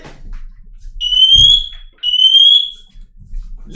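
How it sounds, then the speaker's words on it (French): Two loud, piercing electronic alarm chirps about a second apart, a smoke detector sounding close by, with faint room noise between. "j'ai mon détecteur de fumée"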